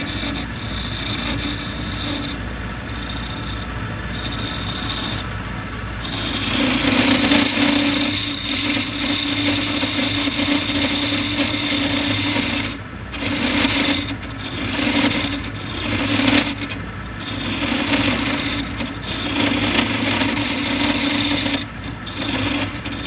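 A curly maple wand spins on a wood lathe while a tool scrapes and cuts it, giving a steady motor hum under a rough, wavering scraping that swells and fades in repeated passes. No one speaks.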